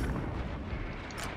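A frag grenade detonates in the Space Marine game as a dull, distant-sounding thud with a rumbling tail, fairly quiet amid ongoing battle noise.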